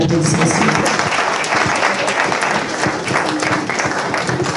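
An audience at a lecture on immigrant integration into American society claps, producing dense, sustained applause that stays loud and even for several seconds.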